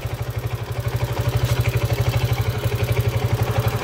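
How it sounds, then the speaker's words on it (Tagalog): A motorcycle engine with a worn connecting rod runs steadily at close range, giving off a fast, even, rhythmic knocking clatter over its mechanical whir. "Connecting rod na pala tong motor niya, oh."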